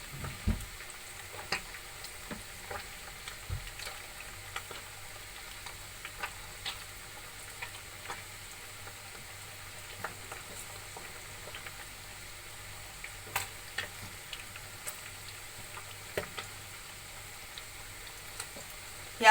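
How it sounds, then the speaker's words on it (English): Stick meat grills in a little oil, a soft steady sizzle with occasional faint pops and ticks, quiet and unbroken by voices. "So we will leave it now to grill for some seconds"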